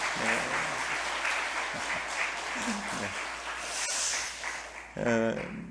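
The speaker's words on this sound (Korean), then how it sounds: "우리 찬양대 지휘자님과 모두에게 박수 한번 하나님께 영광 돌리도록 하죠." A church congregation claps for the choir and its conductor during a Sunday morning service, a dense round of applause that fades toward the end as a voice begins.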